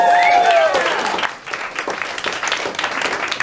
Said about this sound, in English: Oh man, give yourselves a round of applause.